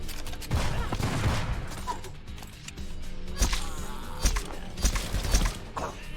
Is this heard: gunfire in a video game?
yes